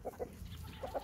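Chickens eating leftover meat on a farm, giving several short clucks in an uneven rhythm, close by and fairly faint, with no talking.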